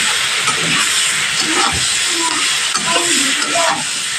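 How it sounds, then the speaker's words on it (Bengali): Prawns fry in a pan with a loud, constant close-up hiss of hot oil and steam, with faint scraping and stirring beneath it and no talking. "চিংড়ি মাছটা এইভাবে ভেজে নিতে হবে।"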